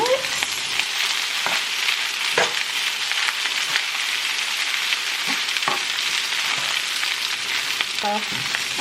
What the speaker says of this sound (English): on high so that my rice can begin to fry